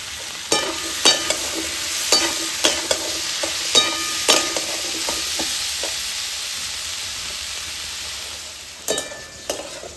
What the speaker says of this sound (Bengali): মাছ ভাজার তেলের মধ্যে লতিটা দিয়ে দিলাম, লবণ দিয়ে দিলাম আর 1 চিমটি হলুদ।